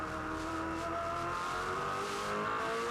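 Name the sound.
V8 Supercar race car accelerating on Oran Park lap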